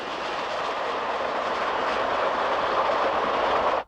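The Coast Daylight passenger train running at speed past farmland on the lower San Francisco Peninsula, a steady loud rushing roar of wheels on rails, continuous and close until it cuts off abruptly.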